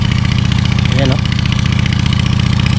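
An engine runs steadily to pump water out of a drained fishing spot, a continuous mid-pitched drone throughout, with a brief voice heard over it.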